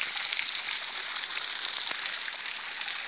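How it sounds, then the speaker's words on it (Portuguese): Steady rush of water flowing at the Cabeça Preta waterfall in Limoeiro do Norte, fed by recent rains, a continuous broadband hiss with no talk over it. "ainda tá fluindo água das últimas chuvas"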